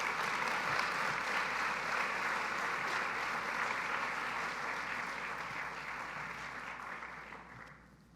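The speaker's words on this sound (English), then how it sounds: "Now you can applaud for Mr. Greg Richardsson." Audience applause fills a hall at an opening ceremony for an anti-bullying conference, a steady dense clapping that holds for several seconds and then gradually thins and fades at the end.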